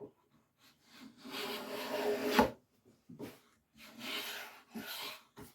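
A restored 100-year-old wooden hand plane shaves an ordinary piece of pine clamped in a vise, giving three close, rasping strokes separated by quiet gaps; the first and longest stroke ends in a sharp knock.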